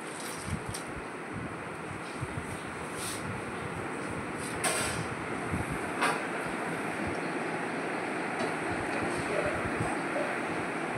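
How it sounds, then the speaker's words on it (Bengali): Chopped banana stem (thor) being washed in water, a steady broadband swishing and rinsing that runs unbroken and moderately close, with no talk over it. "থোড় ধুয়ে নিচ্ছি, কাটা থোড়।"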